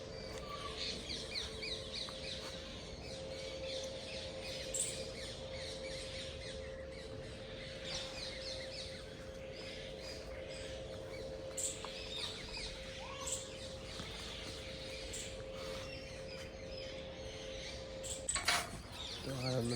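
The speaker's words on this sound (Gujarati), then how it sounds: "પક્ષીઓ" Scattered bird chirps and squawks over a steady outdoor background hum, with a constant mechanical drone running throughout.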